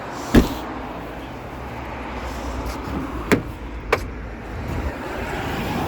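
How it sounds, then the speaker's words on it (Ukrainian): A few sharp mechanical clicks from a 2010 Renault Scenic door with worn bushings sound over a steady low hum, spaced irregularly a second or two apart. "Двері щолкають, втулки потрібно поміняти."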